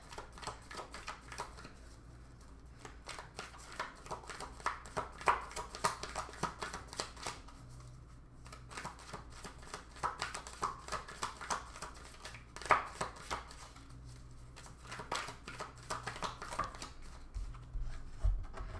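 Tarot cards being shuffled and drawn, a continuous close flurry of crisp riffling and slapping card sounds in irregular bursts, with no voices over it.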